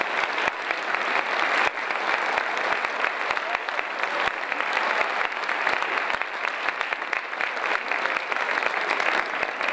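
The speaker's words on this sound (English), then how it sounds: "Let's give these folks a nice round of applause" Steady round of audience applause at a municipal mayoral election forum in Medicine Hat, with crisp, moderately loud clapping from a seated crowd lasting the whole stretch.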